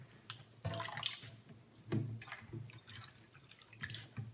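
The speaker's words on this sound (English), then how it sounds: "Now that the lettuce has soaked for a few minutes, I'm going to go ahead and with my hands just transfer it to the large strainer." Soaked lettuce is lifted by hand from a bowl of water into a large strainer, with soft splashing, dripping and trickling water in quiet, irregular bursts close by.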